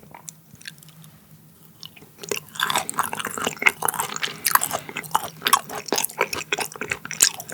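Raw butterfish sashimi being eaten up close, with wet, sticky chewing and soft squishing bites. The sounds are quiet at first, then come as dense, irregular mouth noises for several seconds, with no talking.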